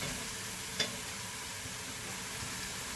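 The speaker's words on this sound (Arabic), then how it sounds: "هنا ملي تقلات لينا البصله، مع الثومه والدجاج" Onion, garlic and chicken thighs frying in a pan, giving a steady, close hiss of sizzling oil throughout with one brief sharper crackle.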